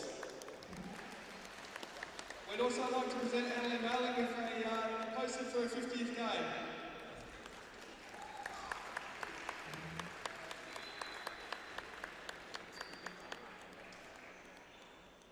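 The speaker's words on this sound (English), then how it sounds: "Please give her a round of applause." A crowd applauds at an NBL1 women's basketball game between Diamond Valley and Southern. An announcer speaks over the public address system first, then a steady round of clapping runs through the latter half beneath continued talk.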